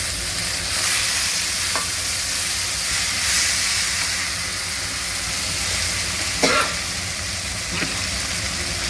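Spices, coriander and tomato sizzle and fry steadily in a pan for avakaya pulihora, a constant hiss with occasional scrapes of stirring and no talking.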